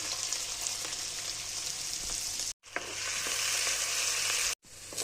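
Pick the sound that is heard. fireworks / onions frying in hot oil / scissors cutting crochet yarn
onions frying in hot oil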